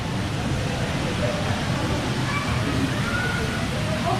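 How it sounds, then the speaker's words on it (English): A waterfall pours into an indoor waterpark pool, heard as a constant, dense splashing roar that fills the space at close range, steady from start to finish with no clear talk over it. "I hear the waterfall."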